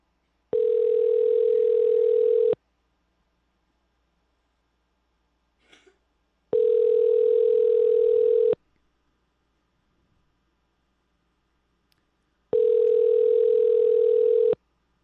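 Ringback tone of an outgoing phone call to a New York number: three long steady two-second buzzing rings spaced evenly apart with silent gaps between them, clear and alone with no voices.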